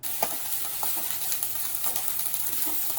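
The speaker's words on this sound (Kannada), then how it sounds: "ಇವಾಗ ನಾನು ಡೀಪಾಗಿ ಫ್ರೈ ಮಾಡ್ಕೊಳ್ತಾ ಇದ್ದೀನಿ" Okra deep-fries in a pan of oil, giving a close, continuous, bubbling sizzle with crackling pops throughout.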